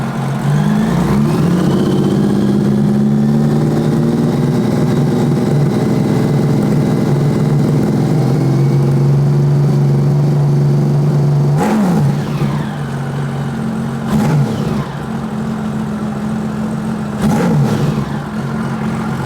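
A motorcycle engine idles with a loud, steady drone while its fuel mixture is tuned richer, then gets three sharp throttle blips near the end, each rising and falling back to idle.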